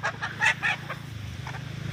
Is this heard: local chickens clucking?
yes